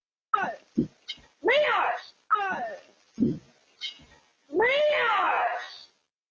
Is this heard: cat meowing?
yes